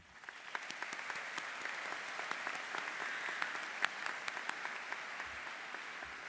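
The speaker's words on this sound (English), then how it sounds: "I would like to give my faculty a round of applause, if I could, please" Sustained applause for the high school faculty at the Marshfield High School 2024 graduation ceremony, a large audience clapping steadily and fairly distantly for several seconds, with sharper individual claps standing out.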